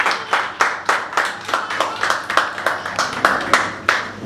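Wedding guests clap rhythmically at a church wedding ceremony, a steady run of close, sharp handclaps with a light crowd wash behind.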